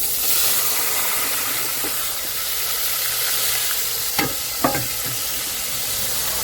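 Chopped tomatoes and green chillies sizzle in hot oil with mustard seeds, a steady close hiss of frying broken by two sharp pops or clinks near the end, with no talking.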